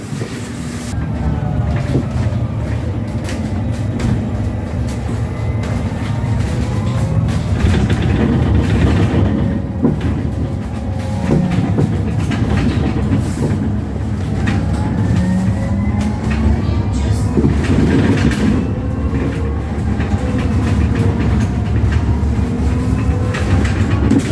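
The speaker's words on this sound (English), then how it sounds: "You could hear the motor turning" An electric bus in Scotland rolls along with its motor humming under a loud, steady rumble of road and cabin noise, continuous and close from inside the vehicle, with a faint whine rising and falling.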